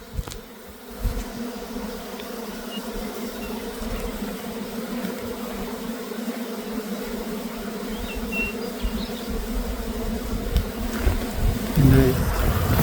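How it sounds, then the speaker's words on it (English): A large swarm of honeybees buzzes thickly around a hive, with a dense, steady drone holding throughout and a few louder swells near the end, alone without talk. "I still have a mass of bees on this hive."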